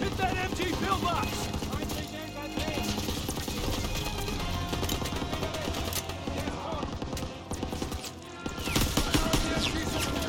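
Rapid bursts of machine gun fire from a German MG pillbox in the Call of Duty: WWII campaign, loud dense volleys with shouted voices over the battle, a brief lull midway before firing resumes.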